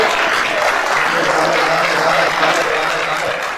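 A large crowd at an evangelical gathering applauds in a loud, sustained roar of clapping that holds steady throughout, with a faint low tone underneath.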